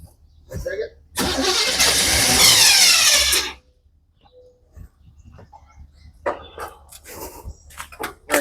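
Ford Model A engine being cranked in a garage, a loud steady burst of starter grinding lasting about two seconds, then quiet with clicks and people talking nearby.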